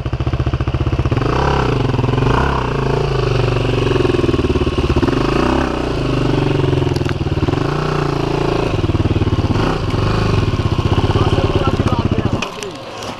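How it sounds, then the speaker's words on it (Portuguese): A dirt motorcycle engine runs steadily and loudly on a rough trail descent, idling and revving with a strong harmonic drone that fades near the end, while voices talk over it. "Ô Pedro, pega minha moto aí."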